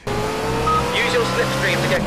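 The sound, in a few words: car engine sounds in a racing video game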